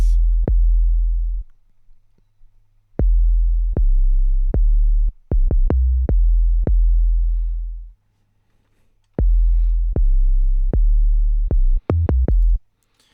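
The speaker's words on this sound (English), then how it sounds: "This is the first 808 pattern." Deep, subby 808 bass notes in a trap beat pattern, each a loud low boom with a sharp attack, some held long and sliding, others clipped short in quick runs, with gaps of silence between phrases.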